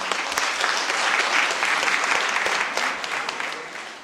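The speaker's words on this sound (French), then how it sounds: "Donc je vous applaudis et félicitations." A conference hall audience in Paris applauding, thick continuous clapping that holds strong and even, then eases slightly toward the end.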